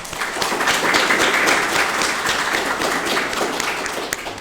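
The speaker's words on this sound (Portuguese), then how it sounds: "gostaria de pedir uma salva de palmas para o pessoal da organização" Audience applause for the organizers at a Portuguese-language talk, a dense, steady wash of many hands clapping that holds fairly loud for the whole stretch without words over it.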